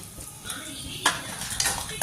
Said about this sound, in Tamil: அதுக்காக நல்லா வதக்கிக்கலாம்